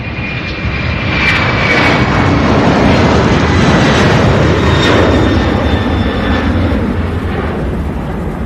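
An airplane takes off from runway 17 right at Louisville International Airport, near the UPS Worldport, its engines a loud, steady roar that holds strong throughout, with no voices.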